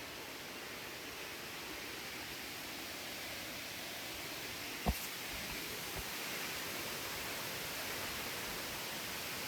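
A waterfall in a forest near Sakleshpura, a steady broad roaring rush of falling water, constant and even, with a single faint knock partway through.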